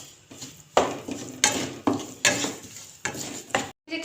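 Gram flour being stirred and roasted in desi ghee in a pan for besan barfi: close, rhythmic scraping strokes of a spoon through the thick mixture, in uneven bursts with brief pauses and no talking.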